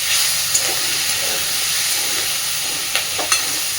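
Fish frying in oil in a pan over a medium gas flame, giving a steady close hiss and sizzle with a few brief crackles and utensil scrapes, and no voices.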